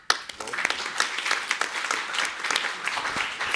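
An audience applauding steadily at the close of a medical forum session, dense clapping throughout with a few louder claps standing out, fairly close.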